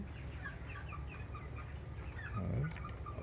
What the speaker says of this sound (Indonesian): Kita lihat ayam-ayam yang bertengger itu,